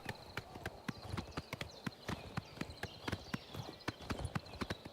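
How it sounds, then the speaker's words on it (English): A black horse gallops in the video game Oblivion Remastered, its hooves striking in a fast, steady clip-clop rhythm, close and moderately quiet, with no talk. "You're a good black horse. You can run very fast."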